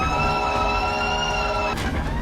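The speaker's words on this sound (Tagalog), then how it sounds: "kahit na nakakarindi ang sirena ng truck" A fire truck siren wails loud and close in congested Manila traffic as the truck weaves along narrow streets among other vehicles. The steady, piercing tone holds throughout over a bed of traffic noise.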